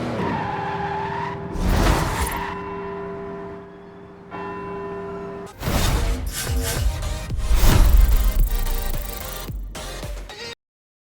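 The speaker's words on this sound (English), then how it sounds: "Hard on those carbon ceramic brakes now." A car braking hard on carbon ceramic brakes in Forza Horizon 4, with loud tyre squeal and skidding in bursts, engine noise throughout, then a sudden cut to silence.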